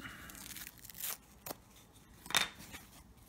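A foam microphone windscreen being torn by hand, giving several short, dry ripping and crunching bursts close up with quiet pauses between them.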